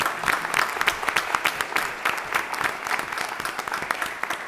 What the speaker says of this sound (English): if you all join me in giving a round of applause for their work